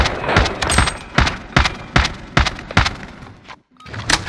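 Rapid gunfire from Call of Duty: Modern Warfare, heavy shots landing in loud, evenly spaced bursts about every half second, with one brief gap near the end before the firing starts again.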